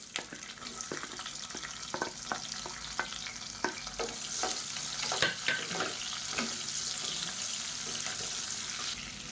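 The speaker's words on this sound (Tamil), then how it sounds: "கொஞ்சமாக கருவேப்பிலை சேர்த்துக்கலாம். இப்போ நல்லா பொரிய ஆரம்பிக்கவும் ஒரு கைப்பிடி அளவுக்கு சின்ன வெங்காயம் பொடியாக நறுக்குனதை சேர்த்துக்கலாம்" Chopped small onions (shallots) and curry leaves fry in hot oil for a green moong curry, a continuous crackling sizzle with repeated sharp clicks of a spoon stirring the pan, no voices.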